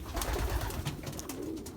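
Belgian racing pigeons coo softly in a loft of young birds, a low murmuring burble with a rising coo toward the end, close and steady with light rustling, no talk.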